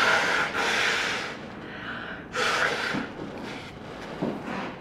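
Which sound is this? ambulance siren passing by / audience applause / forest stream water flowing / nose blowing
nose blowing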